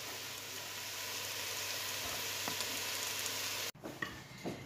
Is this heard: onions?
yes